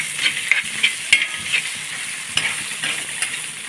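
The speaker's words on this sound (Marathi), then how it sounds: "आणि मस्त भाजून घेते मी" Green chilli kharda is stir-roasted on an iron bhakri griddle: a continuous nearby sizzle with regular scraping strokes of a spatula across the hot surface, heard alone without speech.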